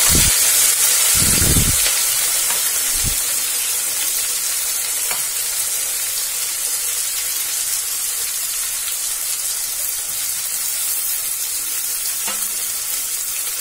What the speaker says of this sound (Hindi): अब इसे हम मिला देंगे और इसे गोल्डन ब्राउन होने तक हम भून लेंगे।